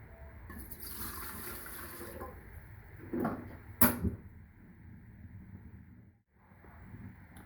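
Two cups of water poured into a pot for cooking traditional vegetables such as sagaa and managu, a steady close splash that runs for several seconds, briefly louder in the middle, then dies away.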